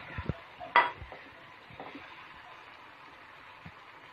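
A spoon stirs tomatoes into frying spice masala in a pan for a chicken, potato and tomato curry, with a few sharp clinks at first and then a steady soft sizzle under quieter scraping.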